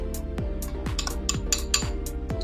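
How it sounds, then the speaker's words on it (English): A utensil scrapes and clinks against a bowl while buffalo cream cheese is mixed, giving a steady run of close metallic taps and chimes with a low hum beneath. "So we'll do a little bit more mixing"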